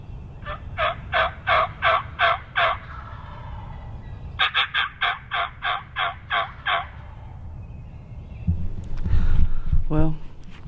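A wild turkey gobbles during a spring hunt in Tennessee: two loud, rapid runs of gobbling pulses close together, followed by softer rustling and low noise toward the end.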